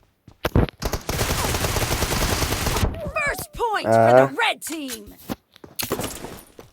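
Gunfire in the mobile battle game PUBG Mobile, a dense burst of automatic fire followed by scattered single shots, while a player talks over part of it.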